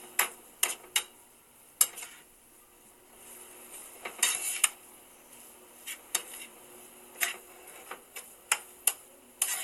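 A rice paddle clacks and scrapes against a pot while scooping cooked rice, sharp irregular knocks and taps spread across the span over a quiet room.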